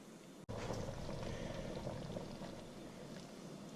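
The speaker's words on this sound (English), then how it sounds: "And we brought it up to a boil." Crawfish bisque with potatoes and corn simmering at a boil in a pot, a soft steady bubbling and gurgling after a brief click, quiet and close with no talking.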